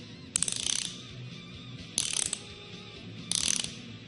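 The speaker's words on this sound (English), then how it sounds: "let go, squeeze. And that way the wrench will be able to go backwards so that you can go forward again." A loose ratchet wrench worked back and forth by hand, giving three separate bursts of rapid, close metallic clicking with short quiet gaps between them.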